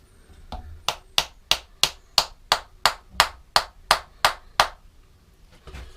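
About a dozen sharp hammer knocks in a steady rhythm, close and crisp, knocking a part onto a handmade woodturning hollowing tool, followed by quiet.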